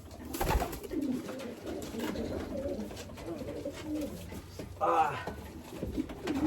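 Racing pigeons from a breeding loft coo softly and repeatedly at close range, with a brief louder burst of coos midway amid light background noise.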